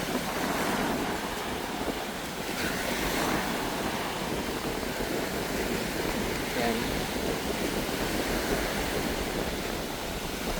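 Continuous roar of ocean waves washing onto a beach on Boracay island, Philippines, steady and full, with wind rumbling across the microphone.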